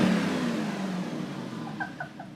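An abandoned supercar fitted with a new exhaust revs its engine, a loud rasping roar that tapers off and settles into a lower idle, with a few short sharp chirps near the end and no talking.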